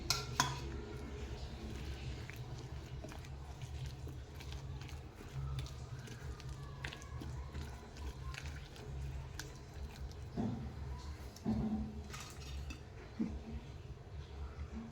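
Onion pieces are stirred with spices in a pan, giving soft scraping, clinking utensil sounds and gentle squishy mixing at a low level, continuing for the whole stretch.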